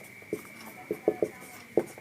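A pen writes out a chemistry definition on paper or a board, giving a handful of soft, irregular taps and scratches over a steady faint hum, close up and without talk.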